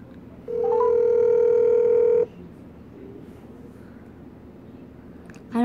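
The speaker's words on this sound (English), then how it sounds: "Okay, now we're gonna be calling Chica Fazbear." A phone call tone sounds once for under two seconds, a steady electronic tone over a low background hum, followed by quiet and a brief sound at the end.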